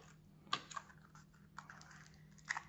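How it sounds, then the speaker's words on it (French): Scissors snipping lace for a scrapbooking project, a few quiet, close crisp cuts in short bursts against a faint steady hum. "J'ai pris un peu de dentelle, je vais la couper un petit peu."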